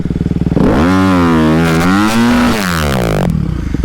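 A motorcycle engine revs close by as a learner rider opens the throttle, climbing and falling in pitch before dropping back to a rough idle, loud and dominant with no talk over it.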